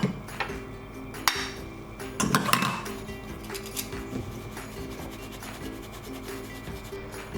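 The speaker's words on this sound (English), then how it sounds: "here I'm shifting flour and baking powder" Flour and baking powder being sifted for dorayaki batter, a soft continuous rubbing and scratching with a few louder taps and knocks near the start, then steady faint rasping to the end; no talking.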